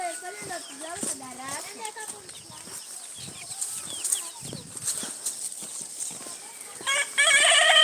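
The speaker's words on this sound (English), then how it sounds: "the chicken is making a lot of noise right there" Chickens cluck and squawk loudly and keep it up by a roadside with food sellers, the calls repeating over busy outdoor background noise and mixed with speech.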